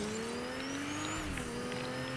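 A car driven in the Fortnite video game gives a steady, fairly loud engine drone whose pitch rises and then eases slightly, running continuously through the whole clip with no talking.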